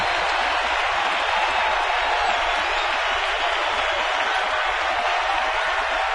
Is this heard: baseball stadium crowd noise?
yes